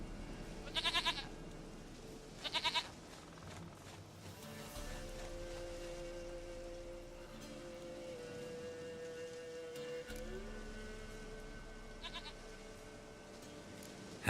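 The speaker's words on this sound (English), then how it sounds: "Goat of mine, dearest, sweetest goat." A goat in the video game The Witcher 3: Wild Hunt lets out several short, faint bleats spaced across quiet game ambience with a soft patter of rain.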